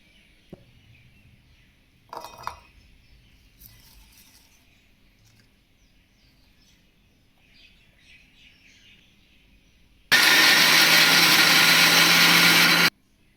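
After near silence with a few faint chirps, a loud mixer grinder whirs and grinds coriander, ginger, garlic and green chillies into a green paste steadily for about three seconds, then stops abruptly.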